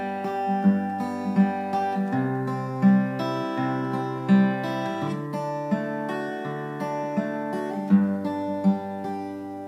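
Fingerpicked acoustic guitar in a steady Travis picking pattern on a song, an alternating bass thumb under three plucked treble strings, clear and close with no voices.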